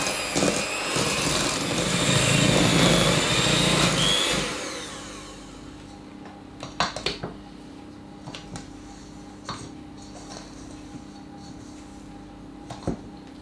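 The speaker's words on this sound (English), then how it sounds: "we're going to mix the whole lot together until it forms a nice batter" Electric mixer beats cherry Madeira cake batter, a loud steady whir for about four seconds that then cuts off, leaving quiet scrapes and light knocks in the bowl.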